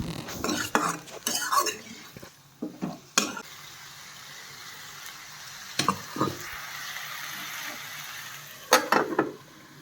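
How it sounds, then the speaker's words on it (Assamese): Chicken pieces coated in turmeric stirred in a pan for green chicken, with scattered clinks and scrapes of a utensil against the pan over a faint, steady frying hiss; quiet overall, no talk. "এতিয়া মাংসখিনিত হালধি দি দিছোঁ, দি অকণমান লৰাই মেলি ঢাকি মাংসখিনি অকণমান মই ভাজি ল'ম"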